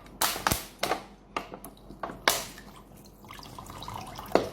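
Water squirting from a poked hole low on a bottle in a hydrostatic pressure experiment, heard as irregular splashes and drips onto a surface over steady background noise.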